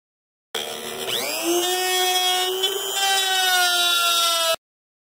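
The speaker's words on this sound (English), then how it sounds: "We're going to drill some." A Dremel rotary tool drills and routs into a guitar body, a steady high-pitched whine with a sharp rising pitch as it spins up, then a sustained loud buzz for about four seconds before cutting off.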